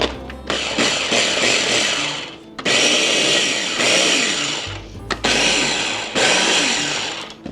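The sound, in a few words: pulsing keto coffee cake dry ingredients in a blender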